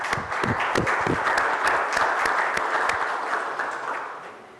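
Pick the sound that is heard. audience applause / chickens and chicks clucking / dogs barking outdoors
audience applause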